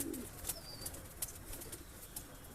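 Faint cooing drifts from breeding pigeons in a loft holding Teddy cross and Kalsira pairs, a brief low call early on over soft background rustle and clicks.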